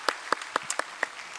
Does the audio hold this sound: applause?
yes